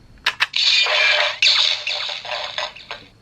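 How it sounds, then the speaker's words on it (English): A Hasbro Power Rangers Lightning Collection Power Morpher toy plays its electronic opening effect: two quick clicks, then a bright, crackly, sparkling sound burst lasting a few seconds, close and fairly loud. "let's take a look at the sound when you first open it."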